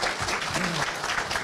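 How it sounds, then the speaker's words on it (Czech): Audience applause at a conference on freedom of speech, a short burst of steady, fairly loud clapping that fills the whole moment, with a faint voice briefly audible underneath. "Tleskáte panu Jiřímu Kobzovi"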